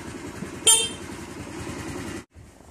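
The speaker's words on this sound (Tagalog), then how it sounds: "Pakinggan natin ang busina nito." A TVS Dazz 110 scooter gives one brief, sharp horn toot over the steady putter of its idling engine, which cuts out for a moment near the end.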